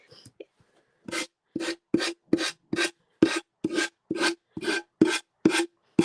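Sanding paint off a wooden piece produces a regular series of about eleven rasping strokes, each short and even, close up in a quiet room with no talk.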